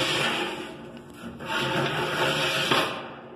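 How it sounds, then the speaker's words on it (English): Steel cooking grates on a Matt's BBQ Pits 2448 trailer smoker slide out and back in, giving a close, steady metallic scraping and rubbing that runs continuously with a brief dip midway. "The grates do slide out, slide in and stuff."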